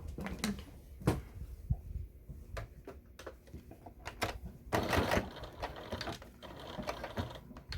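Sewing machine stitching slippers an eighth of an inch from the edge, heard as soft, close clattering bursts with handling knocks and short pauses.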